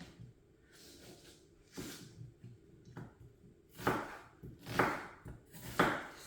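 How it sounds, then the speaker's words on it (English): Onions are chopped for a chicken yassa, a few sharp knife strikes on a board spaced out over quiet kitchen background, getting louder and crisper toward the end. "So you cut the 3 onions"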